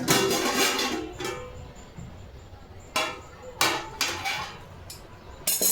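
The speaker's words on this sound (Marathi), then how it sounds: "आता चेक करते, आधी चाकूने चेक करते" A knife tip clinks and taps against a metal cake tin while checking a freshly baked sponge cake, a few sharp, separate strikes close by after some quieter handling noise at the start.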